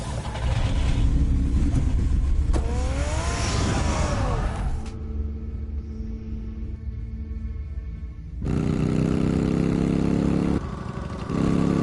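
A car engine in a Batman video game, a loud rumbling roar that revs up with rising whines, drops to a lower idle-like hum mid-way, then surges loudly again near the end.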